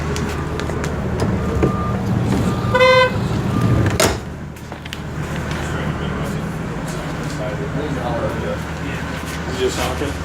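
A car horn toots once in a short burst amid busy traffic and engine rumble, with people talking nearby.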